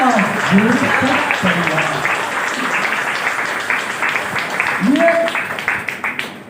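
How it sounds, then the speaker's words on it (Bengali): Sustained applause from a seminar audience at a large business event, steady broadband clapping over about six seconds with a voice calling out over it. "এর জন্য একটা জোরদার তালিয়া"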